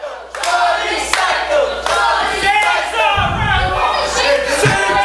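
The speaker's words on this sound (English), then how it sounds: "The crowd getting behind Johnny Psycho." Wrestling crowd cheering and roaring for Johnny Psycho, a dense, steady wall of voices with shouts rising through it and a low rumble partway through.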